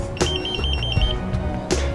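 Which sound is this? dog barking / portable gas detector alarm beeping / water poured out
portable gas detector alarm beeping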